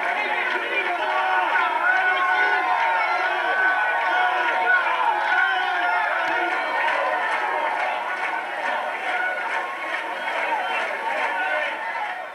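Toulon rugby supporters at Stade Mayol crowding around the players as they pass to the locker rooms, a dense sustained babble of shouting and cheering voices close by, with many people calling out at once.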